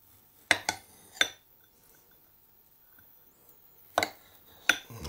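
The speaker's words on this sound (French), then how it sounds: "Vous pelez votre kiwi et celui-là, on va le couper" A knife cuts a peeled kiwi on a board in a few sharp, close taps: a quick pair, then one more, a long quiet gap, then two final cuts.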